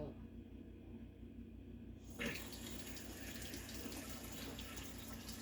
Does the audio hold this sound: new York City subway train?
no